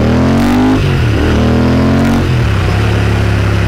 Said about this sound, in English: habit of revving it up a bit when I start